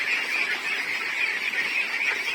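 Ducks calling at feeding time at a duck farm in the Philippines, a dense, continuous chorus of nasal quacks from a large flock, steady and fairly loud, with no talking.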